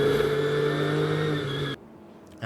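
The Kessel Racing Ferrari 488 race car at the 24 Hours of Spa roars loudly past at close range with a steady, high engine tone that cuts off abruptly as it goes by.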